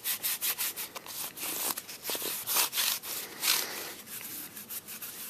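Hands rub finish into a leather belt slip cartridge holder, making a rapid, rhythmic series of close, dry brushing strokes that continue steadily throughout without talking.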